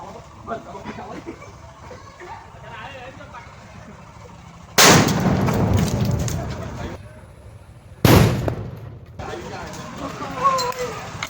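Diwali firecrackers explode inside a pipe outdoors, giving two loud, close blasts that each leave a long noisy wash, with excited voices talking throughout.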